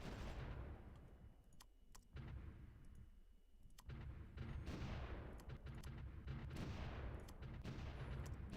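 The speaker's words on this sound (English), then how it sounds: "Move these guys back and we're just going to keep shelling." Artillery shelling in the World War I strategy game Supreme Ruler: The Great War, a steady rumbling barrage of repeated sharp reports and booms layered over a continuous low background roar.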